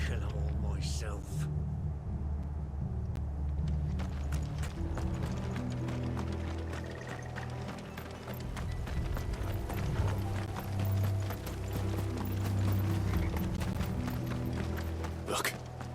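Rapid, continuous clip-clop of horse hooves over a rumbling, galloping din in Final Fantasy XVI, with a voice speaking briefly over the racket.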